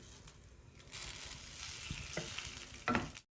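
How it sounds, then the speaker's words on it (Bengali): Whole garam masala hits hot oil in a kadai, bursting into a loud, close sizzle that holds steady with a few sharp pops before cutting off abruptly. "তেলটা গরম হয়ে গেছে এবার এর মধ্যে গোটা গরম মশলা দিয়ে দিচ্ছি"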